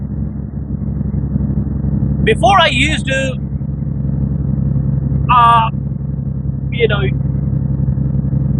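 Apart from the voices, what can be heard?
Detroit Series 60 diesel truck engine running after EGR delete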